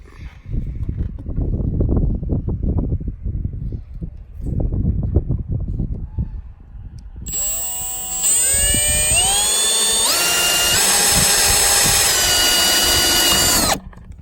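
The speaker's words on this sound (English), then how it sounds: "So we're going to drill a 3/16 hole times 4." Muffled knocking and handling give way to a loud, close power drill whining steadily, its pitch rising as it spins up and bites, drilling 3/16-inch holes for trailer vent covers.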